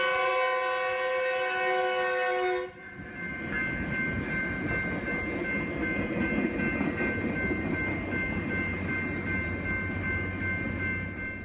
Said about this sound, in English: we caught this Metrolink commuter train whistling for Mission Avenue